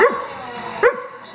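Dogs in a dog cafe in Seoul bark nearby, two sharp yelping barks about a second apart over a quiet indoor room.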